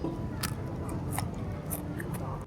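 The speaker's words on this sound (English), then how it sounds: "Oh, that is really crunchy." Sharp, crisp crunches as crispy baked sesame roti is bitten and chewed at a Bangkok market, several irregular snaps close to the mic with no talking.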